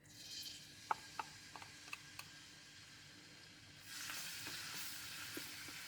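One and a half tablespoons of finely chopped garlic sizzling in hot oil, a faint steady frying hiss with light clicks and stirring ticks, swelling louder near the end.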